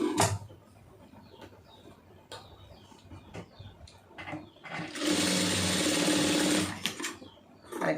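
A sewing machine stitches a round neck in one steady whirring run of about two seconds, after a stretch of soft handling and rustling.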